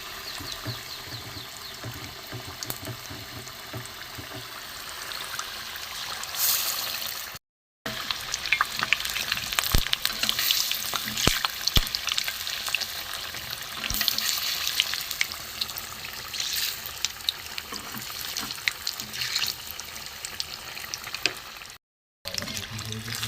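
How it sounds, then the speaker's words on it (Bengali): Bean chops coated in rested gram flour batter deep-frying in hot oil, a steady loud sizzle and crackle running throughout with two very brief silent breaks. "বেসনটা গুলে আমি কিছুক্ষণ রেস্টে রেখে দিয়েছিলাম, দিয়ে আমি এইভাবে তেলে ছেড়ে দেবো।"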